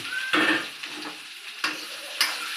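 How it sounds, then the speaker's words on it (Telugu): Fried okra stirred with a ladle in a pan: steady frying sizzle with a few sharp metallic scrapes and knocks of the ladle against the pan, close and fairly loud, no talking. "బెండకాయలు వేసిన తర్వాత ఇట్లా కొంచెం గంటతో తిప్పాలి"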